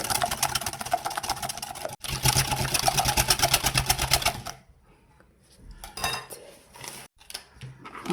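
A utensil stirs egg and yogurt batter in a bowl, a rapid run of rhythmic clinks and scrapes close by, then a quieter, irregular stretch of softer stirring.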